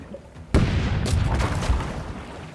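Ship cannons in the pirate game Rogue Waters fire in a loud, sudden boom that opens into a dense, rumbling barrage lasting a couple of seconds, with a second sharp blast cutting in partway through.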